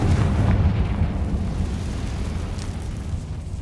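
A Confringo spell explosion in the Hogwarts Legacy video game lands as a loud, deep boom that rumbles on and fades slowly, with no speech over it.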